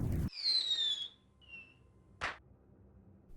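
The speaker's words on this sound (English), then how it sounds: "The first few fireworks erupted in the sky" A rising firework whistle streaks upward, followed by a faint second whistle and then a single sharp firework pop, with quiet gaps between.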